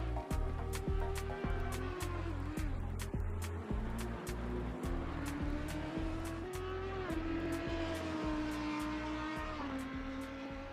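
Race cars in a video game round the last corner at Suzuka circuit and head down the start-finish straight, with a steady, loud engine drone, rising and shifting gear tones, and repeated sharp clicking ticks throughout.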